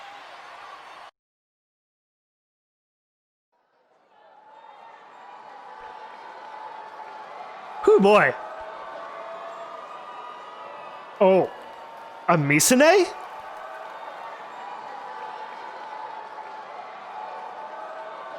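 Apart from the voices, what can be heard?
arena crowd cheering and stomping, from video game Robotics;Notes Elite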